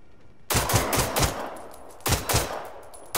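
Two sharp bursts of rapid automatic gunfire from the video game Generation Zero, loud and close, each rattling volley trailing off briefly before the next.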